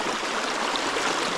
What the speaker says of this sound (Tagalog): malakas-lakas ang tubig